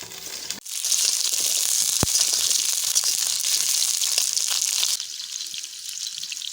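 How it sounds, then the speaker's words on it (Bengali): Washed potatoes hit hot cooking oil and sizzle loudly and steadily, a dense frying hiss that softens slightly near the end, with no talking. "তো আলু ভাজার জন্য এলা তেল দিয়ে দিই।"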